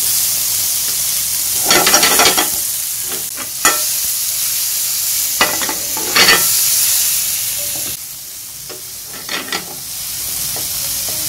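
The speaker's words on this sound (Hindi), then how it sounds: "उसी ग्रिल पैन में मैंने जिसे मीट किया उसी पे मैंने ये ग्रिल सब्जियां भी कर लूँगी" Vegetables and fries sizzle in a grill pan after meat was cooked in it, a constant loud hiss with periodic bursts of stirring and scraping.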